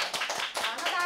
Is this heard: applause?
yes